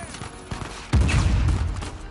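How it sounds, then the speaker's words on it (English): A sudden heavy grenade blast in the video game Uncharted 4, a loud low boom with a rumbling tail, preceded by scattered gunfire in a firefight. "That was a grenade that was coming."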